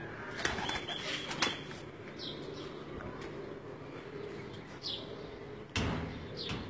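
Racing pigeons burst into flight from a rooftop in Gujrat district during a tournament, with repeated bursts of flapping wings near and loud over steady outdoor background noise, a few separate takeoff flurries across the stretch.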